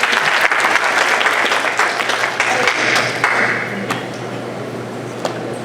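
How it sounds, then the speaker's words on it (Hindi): An audience at a Hindi poetry gathering in New York breaks into applause, a dense continuous roar of clapping with a few sharper individual claps standing out, gradually thinning toward the end. "तो विश्वा के लिए एक बार तालियां हो जाए प्लीज।"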